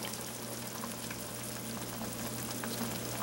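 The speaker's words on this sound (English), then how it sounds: "You can hear it boiling." A steady, close bubbling and crackling simmer of brothy noodle soup with bok choy in a pot on medium-low heat continues throughout, with a low hum underneath and no voices.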